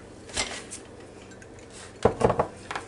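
Utensil clinks against a mixing bowl while a cup of flour and a cup of sugar are stirred together, a couple of soft taps early, then a short cluster of brighter scraping clinks near the end.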